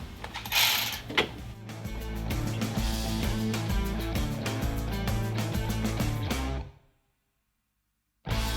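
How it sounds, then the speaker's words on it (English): A ratchet wrench works loose the front fender bolt on a custom big-wheel bagger motorcycle, giving a steady run of close, loud, rapid clicks that stops abruptly, then resumes briefly after a pause. "I'm going to start by pulling off this front bolt in the front of the fender right here"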